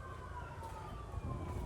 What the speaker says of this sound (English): as soon as we get rid of the wind, we have sirens